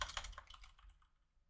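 Quick typing on a computer keyboard while entering a value in a game-engine tutorial: a short burst of soft, close key clicks that fade toward the end, with no speech.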